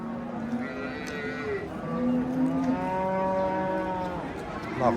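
Cattle at a livestock market low and moo repeatedly, several overlapping calls drawn out over a steady crowd murmur and faint background voices.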